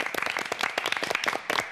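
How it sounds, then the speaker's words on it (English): Studio audience in a Big Brother house applauding the quiz result: a short burst of dense, steady clapping from many hands, fairly close and continuous throughout with no talk. "Why did they clap for us?"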